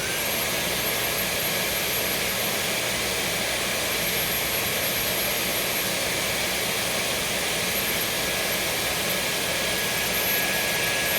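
A Dyson vacuum fitted with a Lanmu powered hose runs on its high setting, a loud, steady, unbroken whine and rush of air with a constant high tone, no voices heard.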